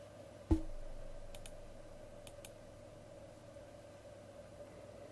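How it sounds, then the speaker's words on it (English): A single sharp computer mouse click sounds near the start, close and distinct over a faint steady hum, followed by a couple of very soft ticks. "so we're just clicking on linear here."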